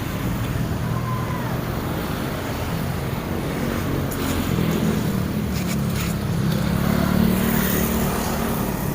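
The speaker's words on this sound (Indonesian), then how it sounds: "inilah situasi dan suasana lalu lintas di Jalan Lewi Gajah ya" Road traffic on Jalan Leuwigajah in Cimahi, heard from inside a moving vehicle as a continuous engine and road rumble with wind noise, vehicles passing steadily without a break.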